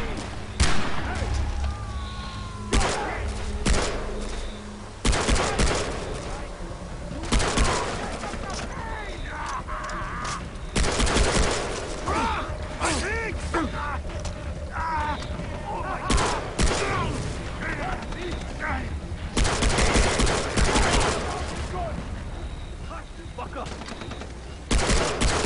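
Bursts of mounted machine gun fire in a Far Cry 3 style island shooter game, rapid repeated volleys recurring across the clip amid other combat noise, with someone talking over the action.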